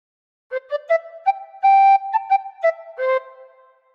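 Tin whistle plays the opening phrase of Oh Susanna, a short run of clear, breathy notes, each blown gently and separately, one sustained in the middle, then trailing off alone.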